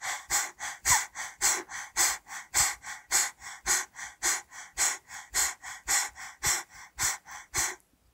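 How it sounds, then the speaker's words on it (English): Forceful rhythmic breathing exercise with the mouth open and tongue out, a run of about twenty sharp, rapid inhale-exhale bursts in an even pant-like rhythm, close and alone without talk. "Inhale. And exhale."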